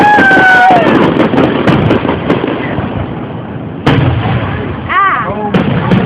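Fireworks burst at a July 4, 2011 display in Porterdale: rising whistles give way to sharp booms and crackling pops in close succession, with spectators talking and exclaiming throughout.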